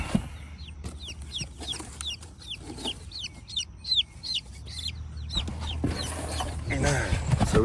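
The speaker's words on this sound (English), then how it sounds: "9 chicks in there plus the chicken, so we got the hen." A broody hen clucks among her nine chicks, with a rapid series of bright, high peeps from the chicks over low, soft clucking, close by, with occasional rustling and a faint voice.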